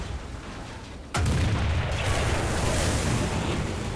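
A tank cannon fires a HESH shell in War Thunder, a single loud blast at about one second that leaves a long, dense rumble of battle noise after it.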